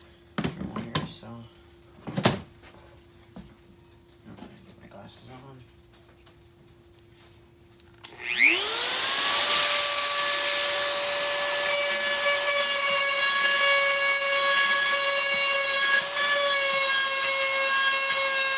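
A Dremel 4000 rotary tool spins up and grinds steadily against a Fiskars blade, a loud sustained whine that starts after a few sparse knocks and handling noises and then holds on to the end.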